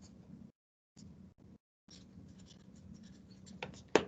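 Quiet scratchy strokes of math notes being written on simplifying rational expressions, in short bursts broken by brief pauses, close by, ending with a sharp tap.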